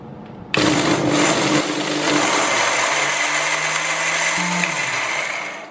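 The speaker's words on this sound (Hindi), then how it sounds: "अब आपको इन सूखे हुए छिलकों को मिक्सी में पीसकर पाउडर बना लेना है" A kitchen mixer grinder whirs loudly as it grinds dried lemon peels into powder, starting abruptly and running steadily with a high motor whine whose pitch shifts slightly near the end.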